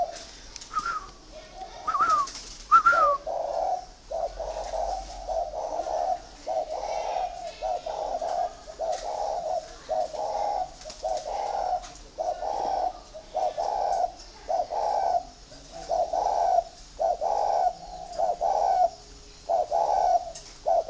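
Spotted dove cooing in Vietnam, a steady run of soft, low two-part coos repeated at a regular pace for about twenty seconds, close by, after a few brief chirps and rustles at the start.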